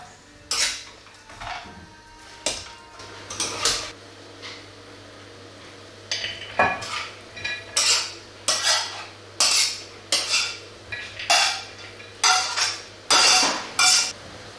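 A utensil clinks and scrapes against a bowl in a steady, rhythmic series while sesame oil is stirred into a sauce for kung pao pheasant. The strikes are close and loud, with a quiet hum underneath.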